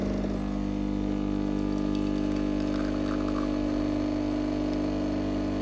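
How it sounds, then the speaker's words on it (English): A Casabrews CM5418 budget espresso machine runs its pump through a shot, giving a steady loud buzzing hum with a faint watery trickle over it and no pauses. "The machine starts with a few seconds of pre-infusion before that golden liquid flows smoothly into the"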